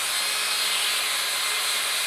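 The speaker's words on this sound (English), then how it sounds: "And then we're just going to start drilling it out." A drill bores into the middle of a carrot, giving a steady, continuous whirring grind with a gritty texture. The sound stays close and even throughout, with no speech.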